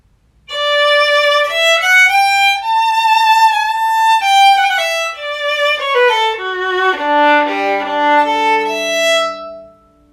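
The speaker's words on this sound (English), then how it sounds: "And this is the sound of an acoustic violin." An acoustic violin plays a clear, close melody of bowed notes with rich overtones, rising and then descending to a long low note, alone with no talk.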